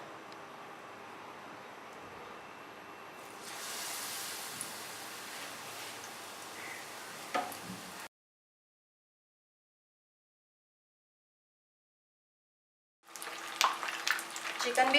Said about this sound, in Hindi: आप चिकन को फ्राई करेंगे।